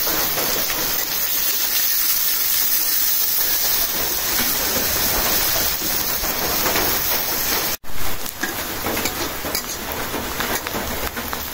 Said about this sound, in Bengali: পেঁয়াজটা ভাজা নিলাম